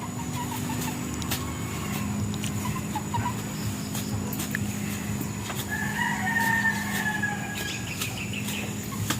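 Chickens on a small farm: a rooster crows partway through over steady clucking and background farmyard noise, with a low hum beneath, moderately close and no talking.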